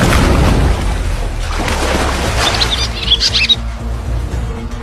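Birds calling above water where African tigerfish hunt, a few thin high chirps rising over a rumbling, splashy background.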